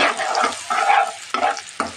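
Fish curry masala of garlic paste, onion paste, coriander and cumin powder frying in a pan, close bursts of sizzling broken by quick stirring strokes in a short busy run.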